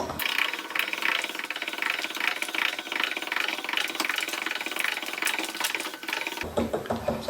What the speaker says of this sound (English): have your lovely assistant start cranking on the handle